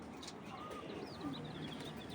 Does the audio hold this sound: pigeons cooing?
yes